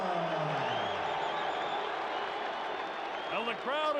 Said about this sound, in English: the crowd is ready for the heavyweight championship of the world